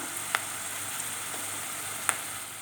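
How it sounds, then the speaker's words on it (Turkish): Onions browning in a pan for a chickpea and collard greens stew, a steady soft sizzle with a couple of brief clinks from stirring, fairly quiet and close, with no voices. "Şöyle bir soğanlarımızı çeviriyoruz tekrar. Güzelce kavrulduğunu düşünüyorum."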